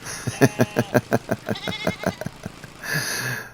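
A goat in the video game Airport Renovator gives a loud, stuttering bleat made of rapid rhythmic pulses, ending in a brief noisy rush, alone and close.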